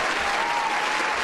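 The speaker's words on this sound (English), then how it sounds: "clap it up for me" Brief burst of dense audience applause during a late-night stream, many hands clapping together at a steady, full volume from start to finish.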